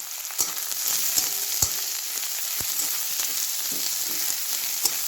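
Onion frying in a pan for a bitter gourd (karela) curry, with a steady close sizzle throughout and sharp clicks of a spatula stirring at irregular intervals; no one talks.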